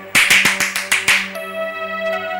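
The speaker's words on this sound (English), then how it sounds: "Clap for him." A classroom of people claps for a student: about seven quick, sharp, evenly spaced hand claps, loud and close, then stopping while a steady musical tone hangs in the background.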